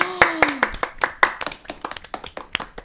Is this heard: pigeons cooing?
no